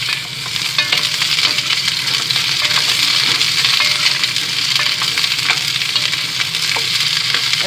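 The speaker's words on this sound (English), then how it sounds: "That oil is hot. Here's the cherry tomatoes." Whole cherry tomatoes sizzle steadily in hot oil, a loud, continuous frying hiss with occasional small pops and stirring clicks, no voices.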